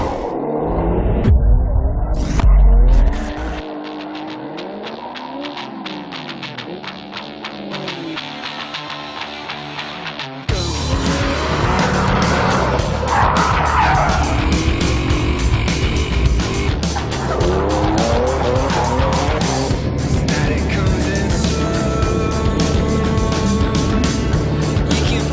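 A drifting car slides with loud, screeching tire squeals over a rumbling engine. The sound shifts from a close burst to a long, continuous stretch of skidding and revving.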